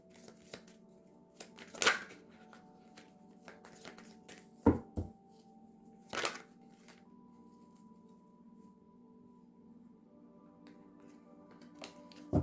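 Tarot cards are handled in a quiet room: scattered soft shuffles, with a few sharper slaps and snaps of cards being drawn or placed, all close and sparse against a low steady hum.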